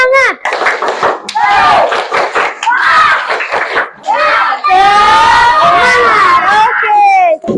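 Schoolchildren in a classroom do a rhythmic spirit clap, loud excited shouts and shrieks mixed with quick bursts of clapping, all close and busy.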